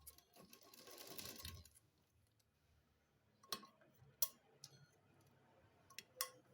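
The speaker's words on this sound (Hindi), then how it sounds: "कुछ इस तरह से हम मशीन चलाते रहेंगे।" A sewing machine stitching a ladies' trouser, starting with a steady whirring run, then a quieter stretch broken by a few sharp clicks and short bursts of handling.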